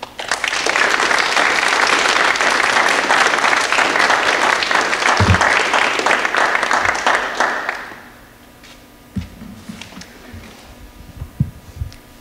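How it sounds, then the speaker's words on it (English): A colloquium audience gives a sustained round of applause that fills the room for about eight seconds, then fades into quiet room noise with a few scattered bumps. "ask you to welcome her with a round of applause"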